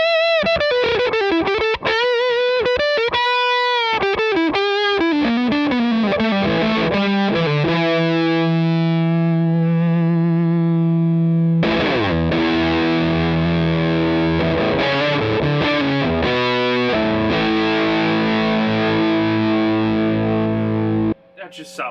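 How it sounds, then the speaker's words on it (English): An electric guitar plays through a DIY Raincoat Big Muff-style fuzz pedal, loud thick distorted notes and chords with long sustaining fuzz, a run of picked phrases giving way to held chords before an abrupt stop. "It's a big muff. So your sustain obviously is the fuzz."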